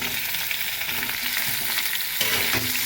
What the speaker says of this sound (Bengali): এগুলোকে আমি একটু ভালো করে ভেজে নেব কাঁচা গন্ধটা যাতে চলে যায়